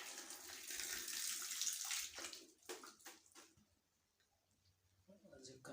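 Water running and splashing through a Lorenzetti electric shower head being rinsed clean, a loud hissing flow for about two seconds, then quieter trickles and a brief splash near the end.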